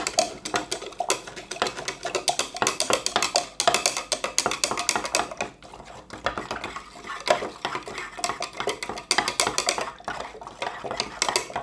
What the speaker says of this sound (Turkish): Karıştırıyoruz ve eritiyoruz arkadaşlar.